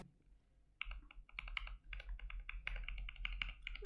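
Quiet, rapid typing on a keyboard in a 3D printed case with TPU gaskets, partly fitted with Gazzew linear switches, giving a steady run of soft, muted keystrokes.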